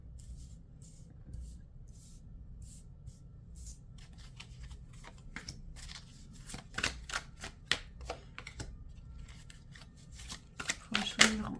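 A tarot-style deck shuffled and dealt out for a nine-card spread: soft sliding at first, then a dense run of quick, sharp card snaps and flicks growing louder toward the end, close up, with faint talk underneath.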